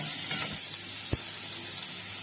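Chopped carrot, beans, cabbage and capsicum sautéing in a pan for fried rice, a steady soft sizzle close by with a couple of faint clicks from stirring.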